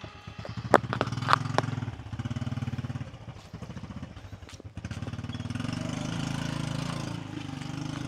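A motorcycle engine chugs and idles with a steady mid-pitched rumble on a slippery rural road just after rain, revving slightly with a few sharp clicks.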